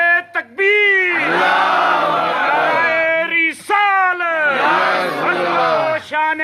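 A large crowd at a religious gathering roars a loud, unified shouted response to a slogan in two long swelling bursts, with a brief pause and a lone voice between them.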